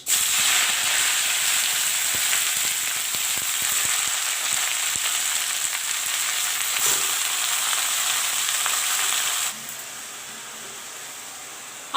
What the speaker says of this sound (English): Put in the pumpkin saag.